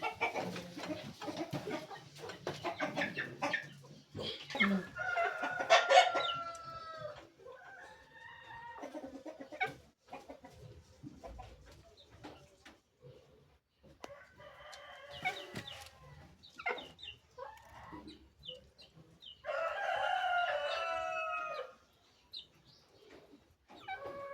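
Pure Kienyeji hens cluck and a rooster crows in a backyard flock, the calls close and repeated, some sharp and loud, with short quiet gaps between bursts.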